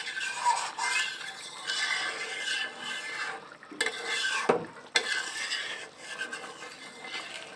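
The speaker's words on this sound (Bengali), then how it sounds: "পেস্টটা একটু ভালোভাবে নেড়ে চেড়ে মেখে দিই" Cumin-coriander paste with cardamom, cinnamon and clove stirred into a turnip and potato curry, a steady scraping and rasping of a spoon against the pot with light sizzling, a few sharper utensil knocks midway.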